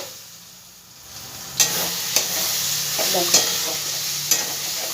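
A spoon stirs chicken chana masala sautéing in a pan, a continuous close sizzle broken by several scraping clacks against the metal, with a brief spoken word.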